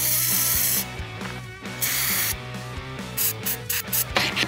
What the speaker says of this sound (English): Spray some in and let it soak for